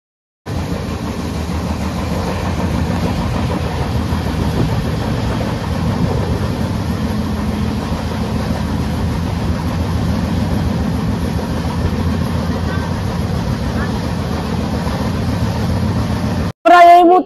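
Inside the Dhauli Express running between Puri and Shalimar, a steady, loud rumble of the moving train carries on without a break, with faint rhythmic rail clatter underneath, and ends abruptly.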